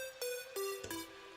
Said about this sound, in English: we have the oscillator B, which is more of a square sound.